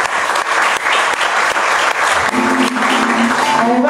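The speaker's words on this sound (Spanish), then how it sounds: "Aplauso para el profe." Dense, loud applause from an audience honoring a professor at a book presentation, sustained steadily throughout with a faint tonal hum creeping in near the end.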